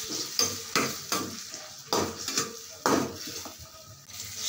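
Tomatoes and potatoes are stirred in a cooking pan, a run of sharp spoon scrapes and clanks against metal every half second or so over a light sizzle, close and clear, no talking.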